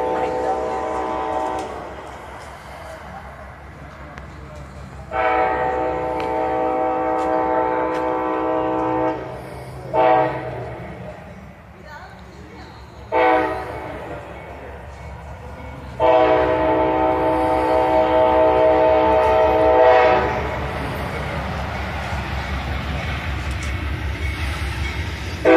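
An Amtrak Silver Star passenger train rumbles past nearby, its horn blaring in several long blasts with short pauses between, over steady rolling wheel noise.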